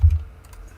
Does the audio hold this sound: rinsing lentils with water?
no